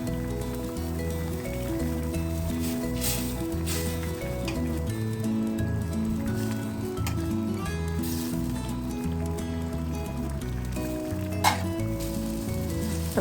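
Fried rohu fish pieces go into a simmering vegetable curry, giving a steady close bubbling sizzle throughout, with faint soft plops and one brief sharp click near the end.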